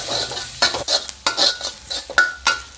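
Chopped aromatics from a pork marinade for red pork sauce are stir-fried in a pan: a constant close sizzle punctuated by about half a dozen sharp scraping strokes of a utensil against metal, with no talking.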